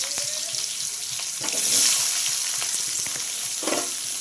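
Onions going into hot oil tempered with bay leaf and spices, cooking for a Bengali potol (pointed gourd) dish: a steady close sizzle that swells briefly as they hit the pan, with scraping stirs and no talk.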